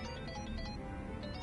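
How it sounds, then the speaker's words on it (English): A mobile phone ringtone chimes in the video game Like a Dragon: Infinite Wealth, a short repeating electronic melody playing alone over a low game background hum. "Your phone's ringing."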